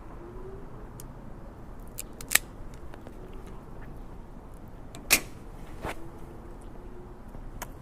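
Partagas Black Label Classico Sun Grown Robusto cigar being cut before smoking: a quiet room with a few brief, sharp snips of the cutter near the mic, two of them louder, and no talking.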